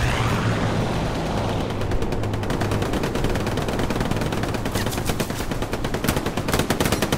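Sustained strafing gunfire from an aircraft in a multiplayer war video game, a loud dense rattle of rapid shots with sharp crackling bursts building toward the end, no voices over it.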